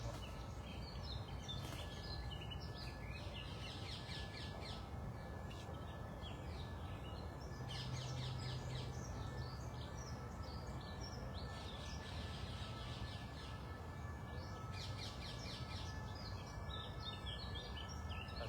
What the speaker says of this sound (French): Il y a deux oiseaux qui sont en train de flirter dans l'arbre.